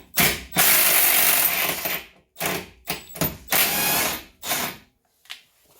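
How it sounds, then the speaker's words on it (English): An impact wrench hammering on a wheel hub bolt during a Renault Trafic wheel bearing job, loud close bursts of rattling whirr in several spurts separated by short pauses. "I'm going to use my impact."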